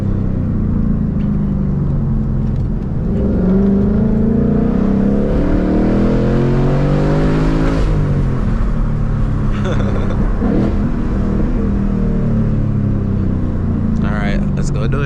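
A 2021 Ford Mustang Mach 1 engine driven hard, with a loud, steady roar and rising and falling revs through shifts, heard from inside the car and continuing throughout, with people talking over it.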